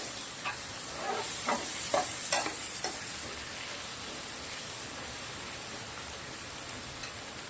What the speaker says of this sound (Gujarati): હવે નાખવાના છે આપણે લાલ લાલ ટામેટા 2 સમારેલા